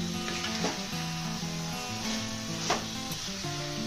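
Chicken pieces stirred and fried in a clay pot, giving a soft sizzle with a few dull scraping stirs, heard quietly behind a steady tonal background.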